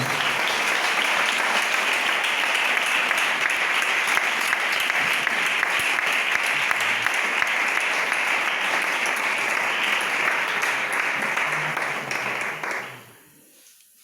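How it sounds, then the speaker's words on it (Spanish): A church congregation gives loud, dense applause to the Lord, sustained for about thirteen seconds before cutting off abruptly into near silence. "Damos un fuerte aplauso al Señor, hermano."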